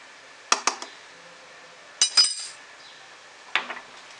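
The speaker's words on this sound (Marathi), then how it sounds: "हे लगेचच मिक्स करून मिश्रण वापरायचं आहे, टाकून ठेवायचं नाही. छान मिक्स करून घ्यायचं" A spoon stirs fruit salt into idli batter in a bowl, making light clinks and scraping taps in three short bursts, close up with no talking.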